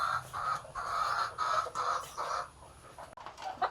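Chickens clucking in a village yard, a run of soft, repeated clucks in short bursts, fairly close and quiet.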